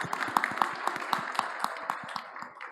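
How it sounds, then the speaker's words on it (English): Audience applause at a startup pitch event, a moderate patter of claps from a smallish crowd, steady over a few seconds and fading slightly at the end. "Applause."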